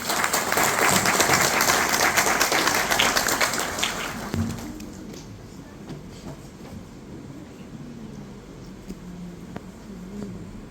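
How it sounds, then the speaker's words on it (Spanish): Audience applause welcoming a speaker at an event at the Universidad Nacional de Villarrica del Espíritu Santo: dense, loud clapping for about four seconds, then dropping away to a quieter room murmur. "Lo recibimos con un fuerte aplauso."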